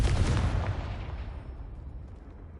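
A fiery explosive blast from the Confringo spell in a Harry Potter video game, a loud booming burst that rumbles and fades away over a couple of seconds.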